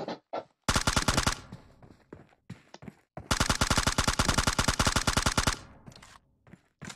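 Rapid bursts of automatic gunfire in the mobile battle-royale game PUBG Mobile, two long sustained volleys plus several shorter shots, loud and close with no talk over them.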